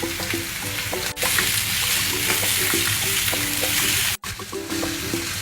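Eight large crushed garlic cloves frying with sautéed onions, a loud continuous sizzle with spoon clinks and stirring, interrupted by two brief cuts.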